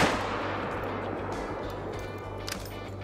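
A rifle in the hunting game theHunter Call of the Wild fires one loud, sharp shot at the very start, followed by a long rolling echo that slowly fades.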